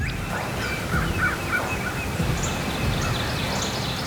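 A wild turkey tom gobbles faintly in the distance during a spring hunt, its short warbling calls half buried under heavy, steady wind roar.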